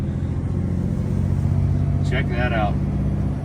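A Scania 770S semi truck engine drones low and steady in the cab in a snowstorm, holding a constant rumble while someone speaks briefly over it near the end.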